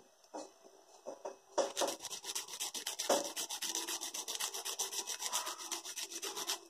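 A nail file shapes a square fingernail with quick, repeated rasping strokes close up, starting with a few scattered scrapes and then settling into a fast, even back-and-forth rhythm with no talk.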